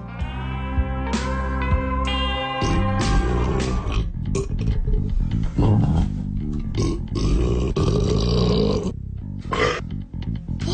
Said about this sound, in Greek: Αν είναι να ρεύεστε, πρέπει να ρεύεστε σωστά.